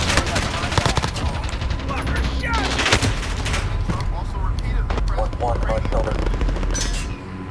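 Dense automatic gunfire and bursts of shots fill a Call of Duty: Modern Warfare match, with continuous rattling fire, thumps and explosions layered throughout at steady high loudness.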